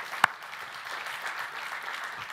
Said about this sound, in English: So I want to give all of you a round of applause for being here today.